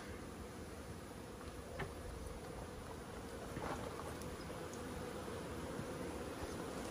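Honey bees hum around a queen cell starter hive, a faint, steady buzzing drone with no pauses and a few slightly closer passes standing out.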